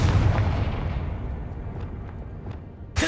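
A Confringo blasting spell explodes in Hogwarts Legacy. One booming blast opens the clip and rumbles away over about three seconds, with a sharp new impact right at the end.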